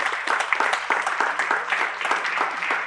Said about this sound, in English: Give Mr. Hugh a hand clap.